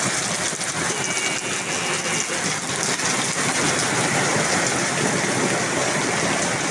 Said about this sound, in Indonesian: Sekedar info, hujannya deras juga.